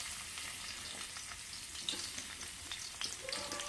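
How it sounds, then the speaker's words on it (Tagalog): Garlic sautés in a pan for adobo with a soft, steady sizzle and crackle, faint and close, broken by a few light pops of stirring near the end. "Gisahin natin yung ating garlic."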